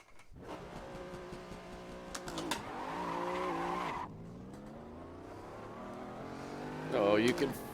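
A rare AC car with a 7.7 liter, 900 horsepower engine accelerates hard up the hill at the Goodwood Festival of Speed, its loud revs climbing through several gear changes with brief tire squeal and a voice speaking under it.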